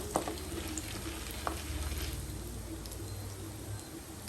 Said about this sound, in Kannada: ಇದನ್ನೆಲ್ಲ ಹಾಕ್ಕೊಂಡು ಚೆನ್ನಾಗಿ ಫ್ರೈ ಮಾಡ್ಕೊಳ್ಬೇಕು